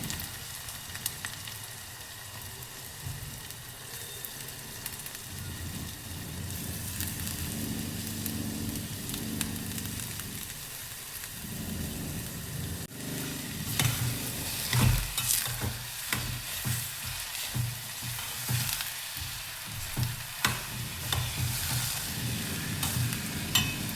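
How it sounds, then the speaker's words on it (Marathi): About four finely chopped onions fry in hot oil with a dense, steady sizzle, growing louder and crackly partway through as stirring scrapes and knocks come in, close up and without talk. "तेल तापलेलं आहे। आता मी हे बारीक चिरलेले कांदे टाकत आहे।"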